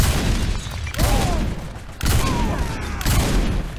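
Gunfire in the video game Saints Row IV, with dense bursts of rapid shots and booming impacts that swell in three waves over a loud, busy game soundscape.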